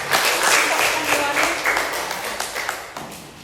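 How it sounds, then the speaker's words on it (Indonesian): Students in a classroom applauding together, a dense burst of many hands clapping close by that gradually thins out, with a voice faintly audible underneath. "Ya, kasih aplaus."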